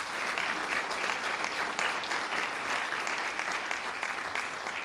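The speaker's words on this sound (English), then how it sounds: "Yep, you can clap for that, huh?" Dense, sustained applause from an audience at a county State of the County address, even and continuous clapping at moderate distance with no clear speech.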